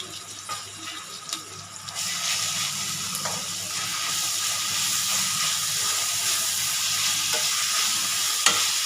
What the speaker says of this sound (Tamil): வெங்காயம் நல்லா வதங்கி நல்லா சுருண்டு வரட்டும்